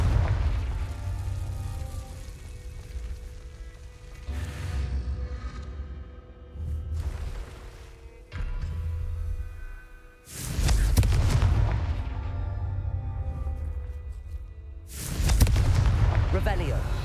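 Confringo fire-blast spells bursting in Hogwarts Legacy around Hogsmeade, several loud booming explosions with roaring broadband bursts separated by quieter stretches of ambient game sound.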